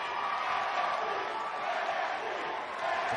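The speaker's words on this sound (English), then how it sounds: "The crowd is loving it. You can hear them chanting JJI, JJI." Wrestling event crowd at a JJI show, chanting and cheering loudly and continuously throughout, a dense wash of many voices with no clear single speaker.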